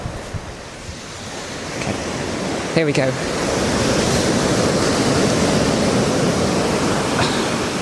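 Ocean waves washing onto a shore with a steady, loud surf roar and wind buffeting the microphone; a person speaks briefly near the start.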